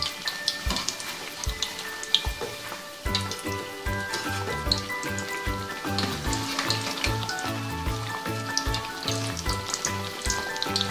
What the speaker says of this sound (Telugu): వీటిని మెల్లగా తిప్పుకుంటూ లో ఫ్లేమ్లో గోల్డెన్ కలర్ వచ్చే వరకు ఫ్రై చేసుకోవాలి.